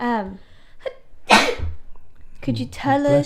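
A single sharp sneeze bursts out loudly at close range in the middle of an indoor conversation, with talk just before and right after it.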